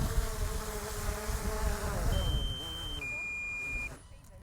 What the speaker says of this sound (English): Sorry about the beeping noise.